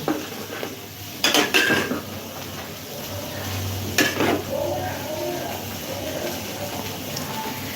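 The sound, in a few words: frying brinjal in a pan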